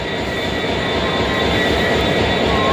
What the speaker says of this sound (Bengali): ট্রেন ঢুকে গেছে আমাদের। ওই দেখো ট্রেন আসছে